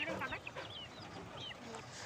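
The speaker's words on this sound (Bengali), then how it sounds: "মুরগি আছে কিছু, ওদেরকে দিয়ে দিলে ওরা খেয়ে নেয়।" Village chickens cluck softly while eating leftover rice, faint and distant against low background noise.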